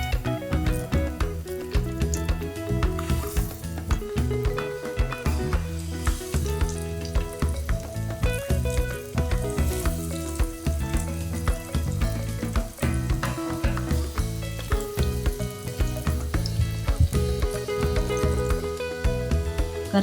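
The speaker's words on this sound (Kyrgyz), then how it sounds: "Даяр болгон котлетибизди ушундай майга салып" Potato cutlets fry in hot oil, a steady dense sizzle with crackling pops running continuously and close up throughout, no voices.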